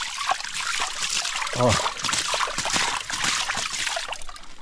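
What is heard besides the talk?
water trickling from a small spring in the caatinga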